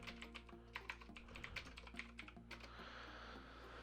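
Typing on a computer keyboard as a song title is entered, a quick irregular run of crisp key clicks close up over a faint steady hum, fading into soft hiss toward the end.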